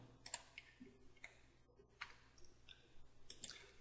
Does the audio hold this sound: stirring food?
no